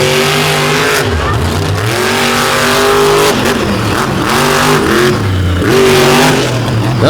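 Monster truck engine at a monster truck show, roaring loud and close with repeated revving swells and falling pitch sweeps across a continuous run, with no talk.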